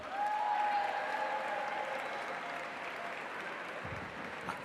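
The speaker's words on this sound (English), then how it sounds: "How about a round of applause for Jamie?" Applause from a gala audience, a steady wash of clapping that swells at the start and holds at an even level for several seconds.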